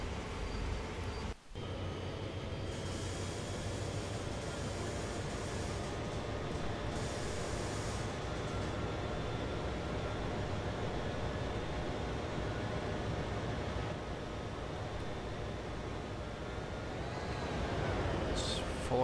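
Steady low rumble of a video game train rolling along in Train Sim World, continuous and even throughout, with a brief dip early on and faint higher whine near the end.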